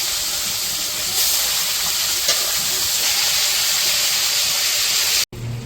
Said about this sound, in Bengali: মাছগুলো ভাজা নিতেছে।